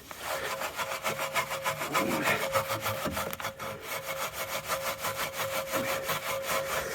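A brush scrubs the barrel of a car wheel coated in foaming Turtle Wax Rapid Decon wheel cleaner, making fast, rhythmic back-and-forth strokes up close and without pause.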